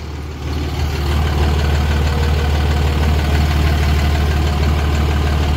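Hotshot pickup truck engine that is losing power with the check engine light on, a close, loud, steady low rumble with a rough, knocking pulse that barely changes throughout.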